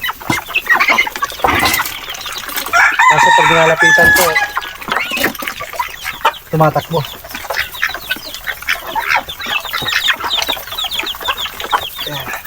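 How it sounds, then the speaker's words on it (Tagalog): Small native chickens cluck close by in short, scattered bursts, with someone talking over them throughout. "Yung kayong maliliit na native na manok."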